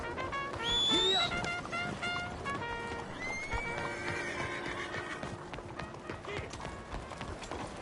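A horse neighs loudly, then gallops with rhythmic hoofbeats in the video game Red Dead Redemption 2, with game music and a voice speaking over it.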